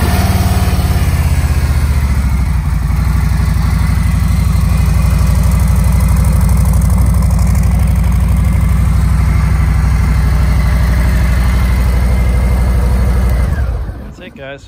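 A 2020 Harley-Davidson Street Bob motorcycle runs loud and close with a deep, steady V-twin idle rumble for most of the clip, then cuts off abruptly near the end.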